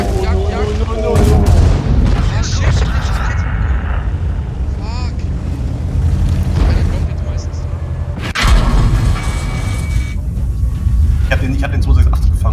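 Tank cannons boom in World of Tanks, with Object 268 tank destroyers in play: a couple of heavy, sudden blasts stand out over rumbling engine noise. Voices talk over the battle throughout.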